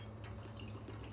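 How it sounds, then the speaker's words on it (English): Craft beer from Hardwood Park Craft Brewery pours into a glass. It makes a faint, steady liquid trickle and fizz over a low hum, with no voices. "So we're gonna pour this now."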